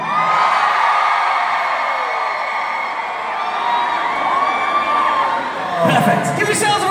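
A concert crowd in Manila roars and cheers continuously, with whoops and high shouts layered into a dense, loud wall of noise that swells again near the end.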